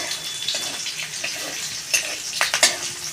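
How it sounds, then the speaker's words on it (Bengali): Whole tempering spices and green chillies hit hot oil. A close, moderate sizzle rises into several sharp crackling bursts near the end, with a faint stirring scrape beneath. "রাঁধুনি ফোড়ন দিয়ে দিচ্ছি আর দিয়ে দিচ্ছি কাঁচা পাকা লঙ্কা আমি মশলাটা আমি লাল লাল করে ভেজে নেব"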